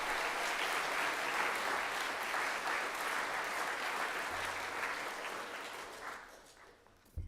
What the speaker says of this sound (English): So we can have a nice round of applause for Catherine.